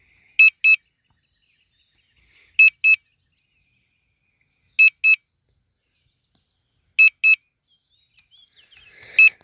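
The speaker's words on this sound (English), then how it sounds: "I always forget how to turn off that beep on this guy." Hubsan Zino 2 drone remote controller sounding its range warning over Lake Anna: clipped double beeps, high and tonal, repeating about every two seconds against silence, with a faint rustle at the end.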